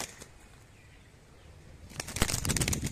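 A pigeon flies in and lands, heard near the end as a short burst of close, fluttering wing flaps after quiet outdoor ambience.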